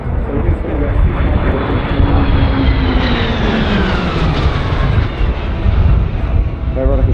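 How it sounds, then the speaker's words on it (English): Roulettes PC-9/A turboprop aircraft make a final fly past at the Avalon Airshow, a loud engine roar with a falling Doppler sweep as the formation passes, sustained throughout. "And a final fly past by the Roulettes as they battle break"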